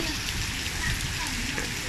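Heavy rain pelts down in Malaysia on an extremely rainy day, a dense, steady, loud hiss of pouring water that fills the whole stretch without a break.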